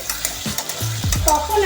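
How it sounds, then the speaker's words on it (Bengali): Potato and onion frying together in oil in a pan, a soft crackling sizzle broken by a few scraping stirs, close and steady, with no talk. "আলু আর পেঁয়াজটা একসঙ্গে একটুখানি ভাজা ভাজা হবে, একসঙ্গে একটু ভেজে নেব দুটোকে।"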